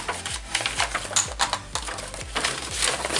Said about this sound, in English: I think I'm going to cut this in half